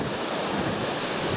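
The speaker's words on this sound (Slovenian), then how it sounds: "Takole je še dopoldne pihalo na območju Tržiča" Strong wind roars steadily in Tržič, Gorenjska, a loud, broad rushing blast buffeting the microphone with no voices.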